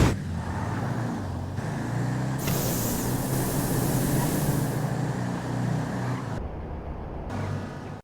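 Two nitrous-equipped Impalas launch side by side off the line in a GTA V street drag race, a loud sustained engine roar with a bright burst of hiss mid-run, fading near the end.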